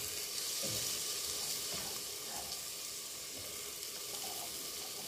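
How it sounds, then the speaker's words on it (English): Tomato added to capsicums frying in a pan, giving a steady, bright sizzle with a few soft wet pops and stirring noises, fairly quiet and with no voices. "Finally going to add the tomato."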